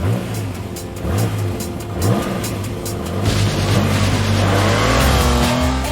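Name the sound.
TVR sports car accelerating on a race track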